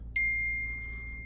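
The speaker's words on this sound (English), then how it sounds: "Let me turn my dinger off." A single bright phone notification ding rings out close and clear, then fades over about a second above a low background hum.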